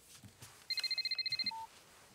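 A family's mobile phone rings with a rapid burst of about a dozen electronic chirps followed by a short beep, heard at moderate distance over soft room noise.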